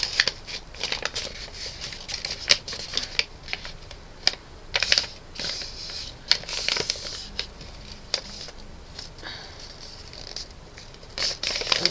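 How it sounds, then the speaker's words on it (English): Sheet of paper creased and refolded by hand for an origami flapping bird, a steady run of close, crisp crinkles and sharp snapping taps with no voice. "you open it again and you fold it down the other way"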